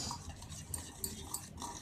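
A spoon stirs beetroot pancake batter with vanilla essence and melting butter in a bowl, giving a steady close scrape with small clinks against the bowl's sides.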